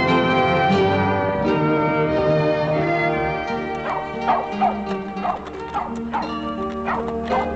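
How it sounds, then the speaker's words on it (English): Several dogs bark and yip in a western TV drama scene, steady and moderately close, over an orchestral music score. "are barking the strange people's bark."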